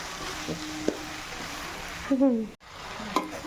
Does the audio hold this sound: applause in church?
no